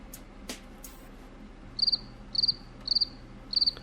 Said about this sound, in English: Add the crickets in